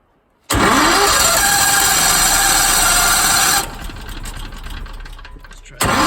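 The engine of a homemade rock crushing plant starts with one pull and roars loudly and close, then settles to a lower steady idle before a brief surge at the end.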